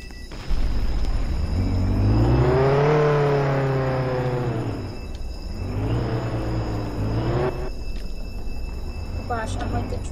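A car engine drives and revs in the Roblox video game, a steady synthetic drone rising and falling in pitch twice over about ten seconds, loud and continuous with chatter underneath.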